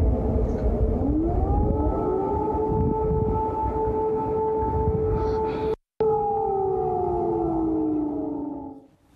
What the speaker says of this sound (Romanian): Sirenele antiaeriene au sunat toată noaptea și la Kiev